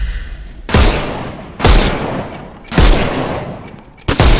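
Three heavy, booming gunshots ring out in the Sherlock Holmes Chapter One video game as enemies' armour is shot off, each loud close blast trailing into a short decay, evenly spaced about a second apart, with a fourth starting at the end.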